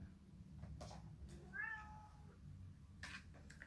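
A domestic cat meows once indoors, a short mid-distance call heard at a door over a low steady background hum, with faint knocks or scratches before and after.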